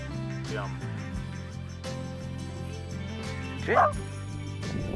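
A dog gives a couple of short, sharp barks, with a louder yelp near the end, over a steady low hum and some background noise.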